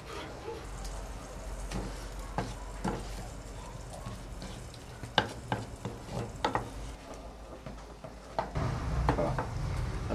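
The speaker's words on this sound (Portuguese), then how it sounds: "Agora a gente vai derreter a rapadura." A spoon scrapes and stirs melting rapadura and water in a pot with soft bubbling and light sizzling, irregular clinks of utensil against the pan, fairly close.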